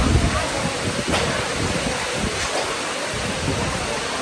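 Steady roar of heavy rain and gusting wind buffeting the microphone, broadband and continuous throughout.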